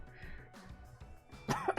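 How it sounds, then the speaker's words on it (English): One person coughs and clears their throat near a gaming setup, a few short rough bursts that end in a louder double cough, heard close over faint background sound. "I'm just thinking about reading one sentence and I'm starting coughing."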